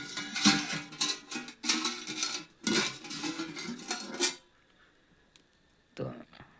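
A lid is lifted off a pan of sponge cake cooked on a gas stove, with a run of close metallic clattering and handling, a quiet pause, then one more sharp clank.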